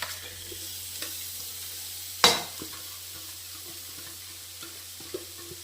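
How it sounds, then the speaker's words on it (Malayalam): Sliced radish and curry leaves drop into a hot pan of oil with a sharp clatter and burst, then settle into a soft, steady sizzle with occasional light stirring ticks. "വേപ്പിലയിട്ട് നമ്മുടെ സാധനം മുള്ളങ്കി നമുക്കിതിലേക്ക് ഇട്ട് കൊടുക്കാം."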